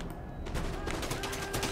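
Volleys of musket fire crackle through a large naval battle in Empire: Total War, with marines and guards trading shots in a dense, continuous burst of overlapping reports.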